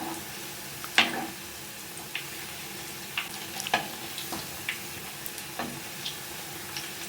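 Small snack balls deep-frying in hot oil and being turned, with a steady low sizzle broken by scattered sharp pops and clicks of the spoon through the oil.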